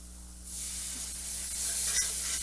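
Vegetable broth and milk are whisked in a hot pan, giving a steady sizzling hiss that swells louder, with a few faint taps of the whisk against the metal.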